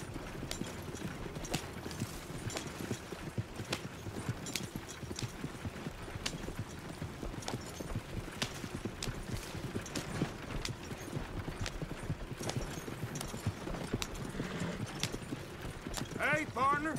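In the video game Red Dead Redemption 2, steady clip-clopping horse hooves trot along continuously under a low rumble, with people talking over the rhythm.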